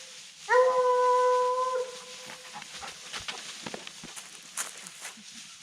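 Hunting dogs bay while trailing a scent track outdoors, with one drawn-out tonal howl near the start over faint background noise, followed by scattered quieter rustles and distant calls.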